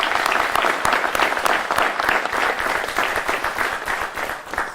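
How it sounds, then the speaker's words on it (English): An audience at a valedictorian ceremony gives a round of applause to the students, a dense, lively burst of clapping that holds strong and then thins slightly toward the end. "please let's join in and give one more round of applause to our students"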